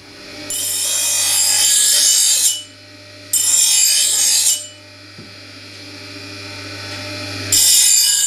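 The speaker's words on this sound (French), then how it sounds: "La meule doit faire un mouvement de l'œil de la hachette vers le tranchant, de cette façon." A hatchet blade is worked on a spinning grinding wheel in passes from eye to edge: three bursts of loud, hissing grinding, each about two seconds, separated by the quieter hum of the running wheel.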